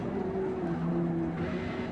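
Race car engine during an overtake in a racing video game: a steady, close droning whine with a sustained pitch that shifts slightly, heard alone.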